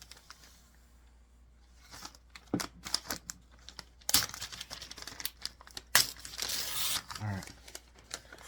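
A Blade Point bushcraft knife slices through a sheet of paper, giving several sharp crinkling, tearing strokes and rustles at close range, with a brief spoken remark over them.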